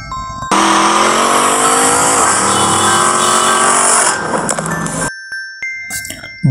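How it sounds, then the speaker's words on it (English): A jeep's engine roars loudly and steadily with rising, revving pitch and a hint of tyre squeal, then cuts away abruptly into brief, scattered noises. "This is a jeep."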